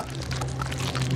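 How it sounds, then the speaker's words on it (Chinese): Water trickles and pours steadily in a tense riverside film scene, a continuous close wash of liquid over a low droning hum, with no one speaking. "水声，水声，这还真有，听见没？"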